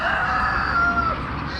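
Chickens in a backyard shed give a close, loud drawn-out call with wavering tonal clucks, continuous for the short stretch.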